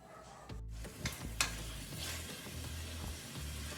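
Sardine cuscuz mixture heating in a pot over medium flame, with soft sizzling and a few scraping stirs and utensil knocks against the pan, fairly quiet and close.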